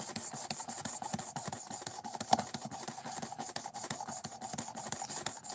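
A sub-$25 knife edge is stroked across a sharpening stone to chase down a stubborn burr, giving a steady run of short, close rasping scrapes in a quick back-and-forth rhythm with no talking.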